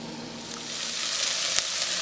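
Ground beef and onions browning together in a pan for tailgate chili, a dense, continuous sizzle that swells slightly louder over a couple of seconds, close and without any talking.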